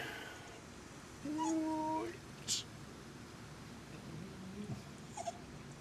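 A dog gives a brief, faint whimpering whine outdoors during a walk at Berry Pomeroy Castle, a short rising and wavering cry followed by quieter rustling and outdoor background noise.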